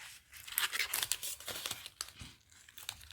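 Paper backing peels off a scrapbooking piece with crisp crinkling and tearing rustles close by, a quick series of soft rips and crackles while no one talks.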